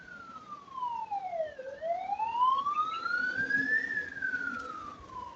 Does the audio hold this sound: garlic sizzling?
no